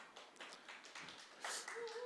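A few faint, scattered claps come from a church congregation as a pastor's sermon opens, thin and sparse rather than a full round of applause, with a quiet background.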